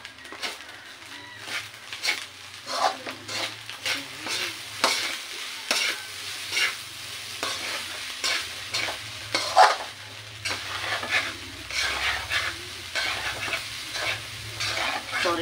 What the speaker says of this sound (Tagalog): Sorry ha, maingay yung aking sandok.